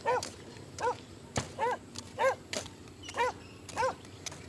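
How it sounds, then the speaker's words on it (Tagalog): A dog barks near a clear river, giving about seven sharp, evenly spaced barks at moderate distance over faint background noise. "Ingay ng aso."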